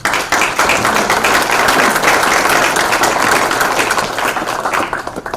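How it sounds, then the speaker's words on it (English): People at a city commissioners meeting applaud two men, a loud, sustained burst of clapping that holds steady, then tapers slightly near the end. "I did want to give a round of applause to both these gentlemen for all their hard work."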